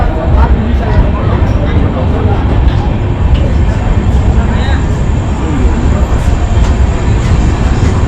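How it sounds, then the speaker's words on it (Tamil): A train rumbles steadily as it pulls away from Dwarka Station at night, with a constant low roar and rattling wheels, voices faintly audible in the background. "ட்ரெயின் மூவ் ஆகுது."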